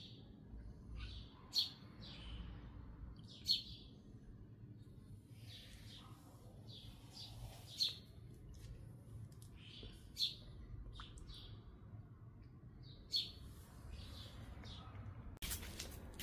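Birds chirp around a shaded garden fountain, sharp isolated tweets breaking out every couple of seconds over a faint, quiet background hum.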